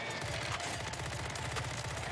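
Rapid gunfire from the Warzone video game, a dense stream of automatic shots in quick rhythmic bursts that fill the short stretch, loud and continuous with no talking.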